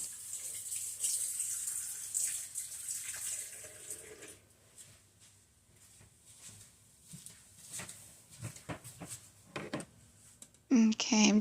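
Tap water runs into a kitchen sink as a bowl is set down, a steady rush that fades, then scattered clatters and knocks, ending in a sudden loud burst of water close by.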